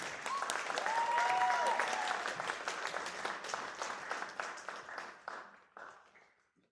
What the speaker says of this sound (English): One more round of applause for Eleanor Brown.